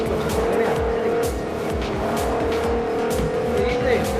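Forza racing game car engine roaring steadily with a sustained tire squeal skidding through corners, loud and continuous, with faint talk underneath.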